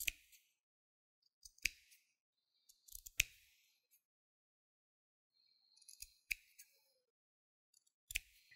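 Scissors snipping small V-shaped notches into a fabric seam allowance beside a bias strip, heard as sparse, crisp close-up clicks in a few short clusters separated by quiet gaps.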